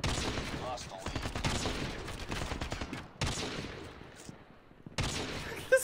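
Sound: gunfire from video game Call of Duty: Mobile

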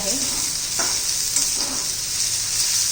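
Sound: onion frying in pan until translucent

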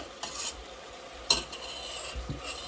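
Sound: minced meat being mashed and fried in a pan

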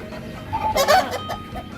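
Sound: fighting cocks clucking in their pen

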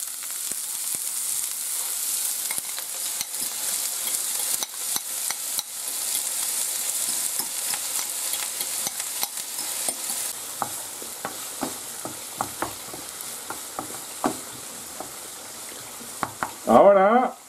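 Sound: onion frying in hot oil in a pan

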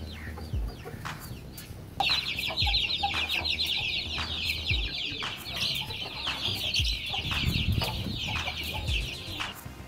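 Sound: adult roosters clucking

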